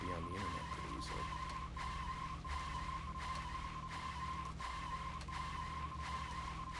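A car skidding in the racing minigame of Deadly Premonition, a video game: a continuous engine drone with a steady whine and repeated short bursts of tire noise at regular intervals, loud and close.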